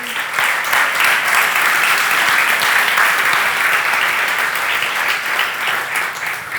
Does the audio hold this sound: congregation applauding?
yes